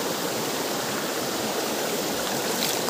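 Water rushes through two holes in a rock, a loud, steady, broadband gushing roar that stays unbroken and close throughout.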